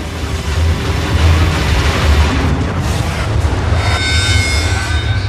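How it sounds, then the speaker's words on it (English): A massive explosion on the Piper Alpha oil rig, heard as a sustained, loud, deep rumbling roar that fills the whole span, with a hissing, crackling tail toward the end. "A colossal explosion shakes the rig."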